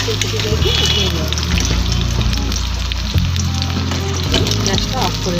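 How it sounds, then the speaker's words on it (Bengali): Cauliflower florets frying in hot oil for a Bengali Gondhoraj fulkopi dish: a loud, continuous close sizzle and bubbling, with a low hum underneath throughout. "ফুলকপি ভাজা হয়ে গেছে"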